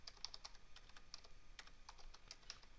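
Typing on a computer keyboard, a quick irregular run of light key clicks, fairly faint and close against a quiet room with no talk.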